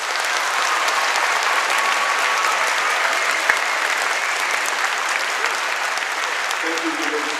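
Steady, sustained applause from a school assembly audience honoring students, dense and even throughout with a brief sharp clap standing out midway and no talk over it.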